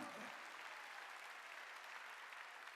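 A church congregation at a Wednesday service breaks into sustained, dense applause, many hands clapping together in a steady wash that fills the room, loud and unbroken throughout.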